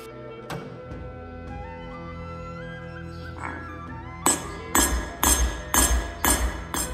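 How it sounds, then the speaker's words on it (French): A hammer strikes a welded mokume-gane layered metal billet directly on the anvil. Six sharp, loud, ringing blows land in quick succession after a quieter stretch of lingering metallic ringing. "J'ai fait la bêtise de frapper sur le tas directement"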